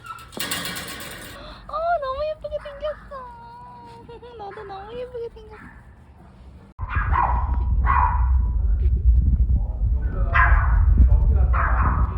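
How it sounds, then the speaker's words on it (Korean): Several dogs whimper and let out high, wavering yips during a holiday visit, followed by a sudden loud burst of rustling and yapping under overlapping voices. "오, 예쁜 강아지들."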